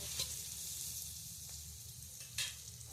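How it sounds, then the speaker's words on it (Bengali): Turmeric and chilli powder frying in oil, stirred with a spatula, giving a faint steady sizzle with two brief scraping strokes. "আবারও বেশ ভালো করে আর একটুখানি নাড়িয়ে চাড়িয়ে নিতে হবে"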